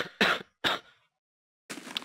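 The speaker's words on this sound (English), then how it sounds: "didn't mean to cough into the microphone" A person with pneumonia coughs close into a microphone: two sharp, loud bursts in quick succession, a pause of silence, then a rougher throat-clearing cough.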